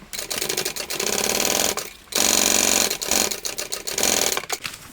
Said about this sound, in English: we're going to sew this with the seam allowance given in the pattern